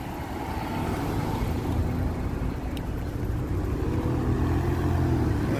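Steady road traffic rumbling past a cyclist on the Chicago lakefront bike path, a continuous broadband wash of car and truck noise mixed with wind, with no distinct single pass standing out.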